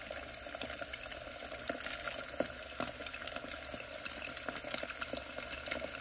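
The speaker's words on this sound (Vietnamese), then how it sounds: "Giờ mình tiếp tục chiên thêm một mẻo nữa cho nó xong luôn nha các bạn" Chicken-wrapped sticky rice deep-frying in hot oil gives a steady, close crackling sizzle with scattered sharper pops, continuous throughout and without voices.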